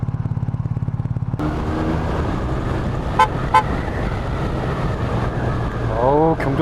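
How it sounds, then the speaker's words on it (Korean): A BMW R1250 RT motorcycle engine rumbles and idles, then two quick horn honks sound close together, loud and near. "경적 소리 좋고"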